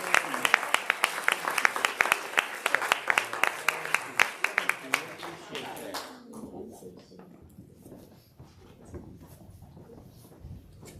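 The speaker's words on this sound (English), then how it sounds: "again, a round of applause" Round of applause from a congregation at a church service: distinct, rhythmic claps from a modest group for about six seconds, then trailing off into scattered claps while people talk.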